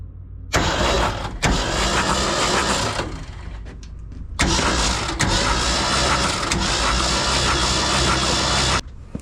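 Rusty fire truck engine cranking with its spark plugs removed churns loudly in two long bursts separated by a brief pause, a rapid rough turning-over without catching.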